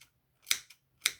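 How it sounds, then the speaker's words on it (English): Scissors snip notches into the seam allowance of a sewn fabric medical face mask, three crisp, close cuts spaced a fraction of a second apart in an otherwise quiet room. "you could use some scissors and like cut notches into it."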